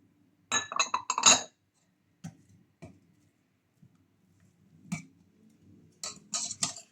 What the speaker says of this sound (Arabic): غادي نخلط حتى ينسجم لينا الشوكولات مع الحليب.